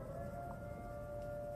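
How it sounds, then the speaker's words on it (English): Town tornado warning siren wailing as a steady, sustained tone, faint and distant over a low background rumble. "you hear the weather siren, the tornado warning siren go off"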